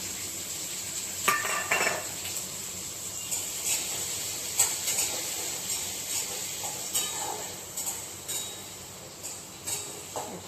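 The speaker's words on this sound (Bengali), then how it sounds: "এবারে তেল সর্ষে ফোড়ন দিয়ে আমগুলো ছেড়ে দিলাম।" Mango pieces fry in oil tempered with mustard seeds, a soft steady sizzle broken by repeated clinks and scrapes of a utensil against the pan.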